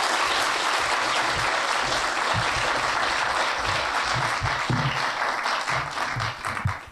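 Audience at a bookstore author evening applauds to welcome novelist Liz Moore to the stage, a full, sustained wash of clapping from a large crowd that tapers slightly at the end.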